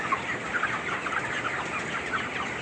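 Broiler chickens on dry sand litter in a poultry shed, a steady low chorus of soft clucks and chirps from a crowded flock, moderately quiet and continuous with no talking.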